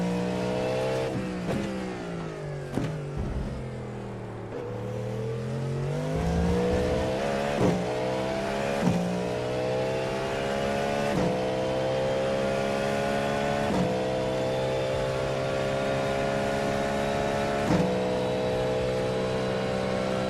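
A GT3 race car engine drones loudly in iRacing at the Nürburgring, pitch rising steadily through each gear before dropping sharply at several quick upshifts, sustained and close.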